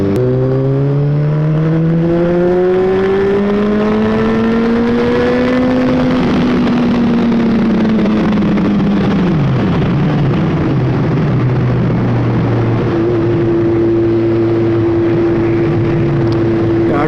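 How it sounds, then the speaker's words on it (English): A Honda CBR600F motorcycle engine revs and pulls through the gears, loud and close. The pitch climbs, drops at a shift, then settles into a steady drone under wind noise. "I can't get over how great the power delivery is on this bike."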